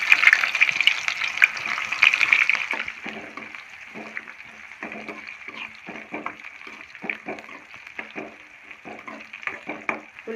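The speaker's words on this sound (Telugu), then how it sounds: "ఆవాలు జీలకర్ర వేగిన తర్వాత 1 ఉల్లిపాయ 2 పచ్చిమిర్చిని కట్ చేసి వేసుకుంటున్నానండి." Onion and green chillies hit hot oil with mustard seeds and cumin, giving a loud, steady sizzle at first that settles into a quieter frying hiss broken by repeated scrapes and stirs.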